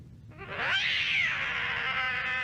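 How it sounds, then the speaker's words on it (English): A dragon in a 90s anime lets out a roar that sounds like a cat: one loud, drawn-out caterwauling yowl that rises in pitch and then holds steady, alone and close. "the dragon sounds like a cat"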